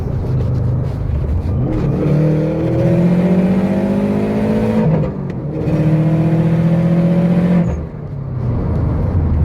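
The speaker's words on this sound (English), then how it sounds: "It makes swooshing noises and it backfires." A 2008-2014 Subaru WRX with a faulty manual transmission revs and whirs in rising sweeps, with short breaks between pulls; no distinct backfire pops stand out.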